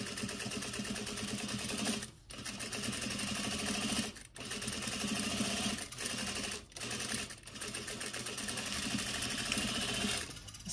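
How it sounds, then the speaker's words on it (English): A sewing machine stitches a pillow seam along a pressed line on a mitered striped pillow, running in a steady close rattling whir broken by several brief stops. "now I'm just going to open that seam allowance and stitch on the pressed line right there"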